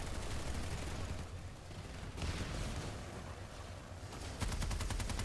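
Dense, continuous gunfire from the online shooter Planetside 2, a steady barrage of overlapping shots that grows louder and sharper near the end, with no voices.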